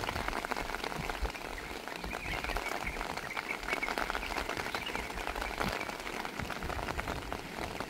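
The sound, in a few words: rain at mountain camping ground, Bali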